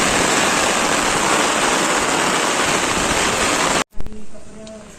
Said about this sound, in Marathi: तुफान पाऊस आलाय बघा मित्रांनो भरपूर पाऊस आलेला आहे